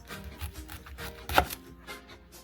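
A knife slices a Brussels sprout in half on a cutting board, giving one crisp, quiet chop amid faint kitchen background.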